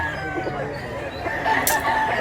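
A rooster for sale at a chicken seller's crows once, loud and close, over a steady outdoor background.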